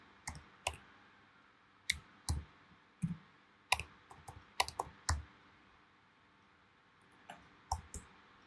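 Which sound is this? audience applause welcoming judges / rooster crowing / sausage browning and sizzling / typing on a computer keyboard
typing on a computer keyboard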